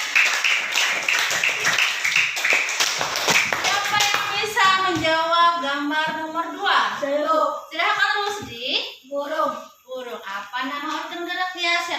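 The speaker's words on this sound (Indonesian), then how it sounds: "Beri tepuk tangan untuk Ehsan." Primary school pupils clap hands in a classroom during a lesson, a burst of quick close claps at the start, then children's voices speaking and chanting over the fading claps.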